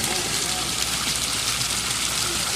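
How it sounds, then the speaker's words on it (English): A garden waterfall rushes with a loud, continuous roar of falling water, an unbroken broadband wash that stays steady and close throughout. "this is a nice waterfall"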